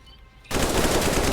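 Rapid automatic gunfire from the Roblox survival game Decaying Winter bursts in suddenly after a quiet moment, a loud, dense, continuous rattle of shots close to the listener.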